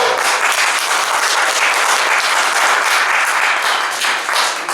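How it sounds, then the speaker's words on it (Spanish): Dense, loud applause from a large audience at an institute session, a continuous roar of many hands clapping close by that holds steady throughout and eases slightly at the very end. "al que pido un fuerte aplauso"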